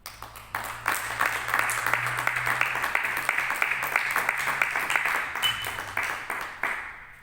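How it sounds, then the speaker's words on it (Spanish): A church congregation applauds the Lord, rhythmic unison clapping at a steady beat, moderately loud and slightly distant in a reverberant room, with a faint low hum underneath. "¿Cuántos pueden dar un aplauso al Señor?"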